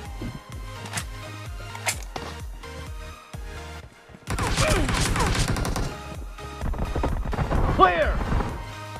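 Gunfire in the battle royale game PUBG during a 1-versus-4 match: a rapid run of sharp shots, then denser loud bursts and crashes in the second half, with voices mixed in.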